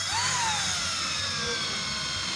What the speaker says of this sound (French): on met les 2 vis en 35 et on vient visser doucement